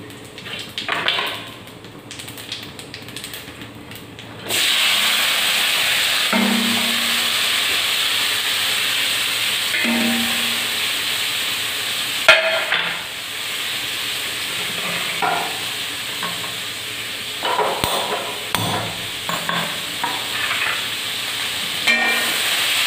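Black cumin seeds (nigella) hit hot oil with a sudden, loud, sustained sizzle and hiss, with occasional stirring clinks over the frying.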